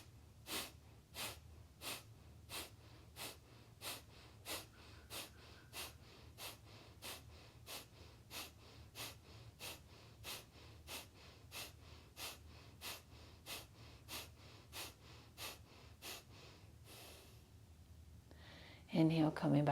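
Rhythmic yogic breathing rounds, a long run of sharp, evenly spaced forceful exhales through the nose at close range, about one per second, ending with a brief louder rustle.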